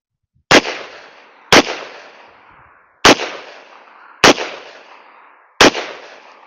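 Five loud, close gunshots from a Taurus Model 66 revolver firing .38 Special rounds, spaced about a second apart with uneven gaps. Each sharp crack is followed by a fading echo tail.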